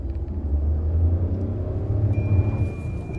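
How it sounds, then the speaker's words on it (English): A 2025 Tata Altroz pulls away in first gear, its engine a steady close, low rumble that swells slightly as the car moves off, with no one speaking. "the car is turned on, we are into first gear, handbrake down,"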